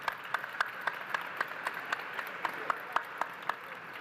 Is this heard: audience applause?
yes